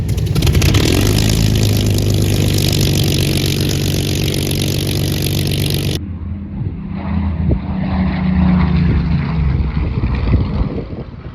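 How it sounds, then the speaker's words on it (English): A Supermarine Spitfire propeller warbird takes off, its engine a loud, sustained roar with a heavy low drone that drops back abruptly midway and then swells again, steady and without voices. "So the Spitfire you just saw took off is going on the third flight."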